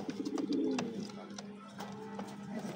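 Local domestic pigeons coo in low, throaty rolling calls, close and clear, with soft repeated phrases over a quiet background.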